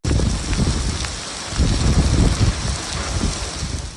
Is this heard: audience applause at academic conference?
no